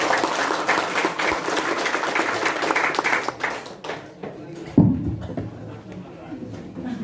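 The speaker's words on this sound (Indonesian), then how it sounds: "Tepuk tangan dulu kakak." Audience at a scout training course session breaking into dense, steady applause for a few seconds before it thins out and voices take over, with a loud thump near the end.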